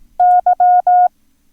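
Single-pitched Morse code tone keying the letter Y: one long dash, a short dot, then two more long dashes, clean and steady with no voices over it.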